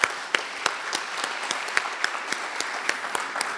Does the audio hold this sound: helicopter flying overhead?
no